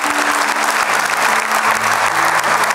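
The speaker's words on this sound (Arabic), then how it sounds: "تصفيقة تستحقها جودة بعد التقرير هذا" A TV show studio audience bursts into sustained applause, a dense, loud wash of clapping hands that holds steady from start to finish with no one speaking over it.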